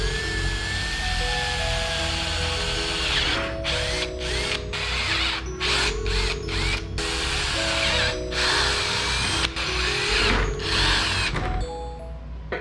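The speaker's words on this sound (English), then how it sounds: "Cut out, drill some holes." A power drill bores holes through plastic fender flares for a Kawasaki KRX 1000 UTV, its steady whine repeatedly stopping and starting in short bursts, close and loud throughout.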